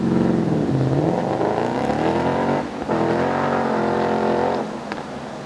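A Ford Mustang GT fitted with a Roush axle-back exhaust revs loudly nearby, a deep rumbling roar that rises and holds, dips briefly, then climbs again before easing off, with no voices.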